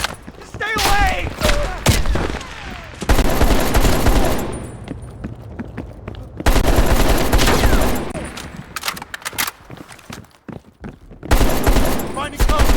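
Heavy automatic gunfire rattles in long loud volleys in the shooter game Call of Duty: Black Ops Cold War, with thuds and booms, breaking off into short pauses. Voices shout over the shooting.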